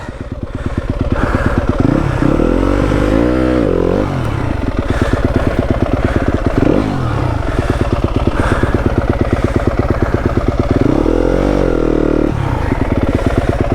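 Yamaha WR250F dirt bike ridden in a backyard, its engine loud and close throughout, with steady throttle and several rising revs and blips.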